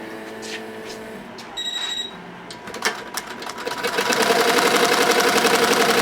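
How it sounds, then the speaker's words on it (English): An embroidery machine stitches a sweatshirt sleeve, starting with a few clicks and beeps, then building into a loud, fast, steady mechanical chatter of the needle. "let's get this embroidery going"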